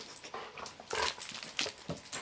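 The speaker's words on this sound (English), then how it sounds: "Oh, no, the evil Crixus puppy is eating me alive" A playful puppy whimpers and yelps in short, close bursts over about two seconds, with a broad, scrappy texture of play noise around the cries.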